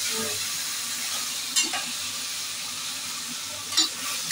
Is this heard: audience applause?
no